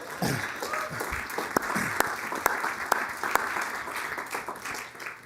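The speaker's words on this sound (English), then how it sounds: "That was a top opportunity for you to give yourselves a round of applause." Applause from a city council meeting audience, a steady wash of clapping with a few sharper individual claps standing out, sustained for several seconds before thinning toward the end.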